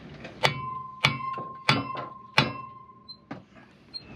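Hammer strikes on metal, about five sharp ringing blows at an uneven, roughly half-second rhythm, close and clear with a lingering metallic tone between hits.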